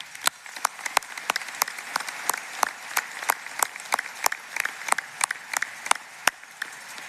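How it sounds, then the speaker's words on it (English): Scattered applause at a university graduate commencement ceremony: a modest group clapping in distinct, uneven claps, moderately loud and steady, with no talking. "Let's give all our nominees a round of applause."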